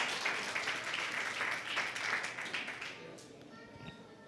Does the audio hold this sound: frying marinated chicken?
no